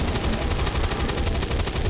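Rapid, repeated gunfire from a squad battle in XCOM 2: War of the Chosen, a dense burst of shots with a steady rhythm, loud and close, with no talking over it.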